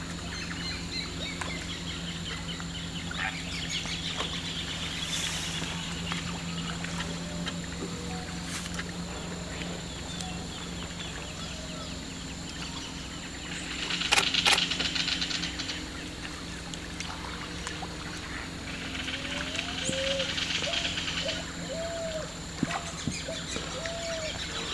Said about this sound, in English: amazing the different birds you hear when you're sitting at idle here with no engine on